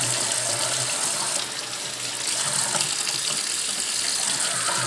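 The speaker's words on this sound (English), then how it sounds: "I peel mine under hot water" Hot water runs steadily from a tap while a dyed disc golf disc is peeled under it, a constant close rushing splash with slight changes as the stream hits the disc, and nobody speaks.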